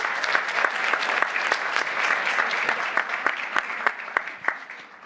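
Audience applauding at a HackBrazil pitch event, with sharp individual claps standing out over a dense, steady ovation that thins slightly toward the end. A faint voice is present underneath.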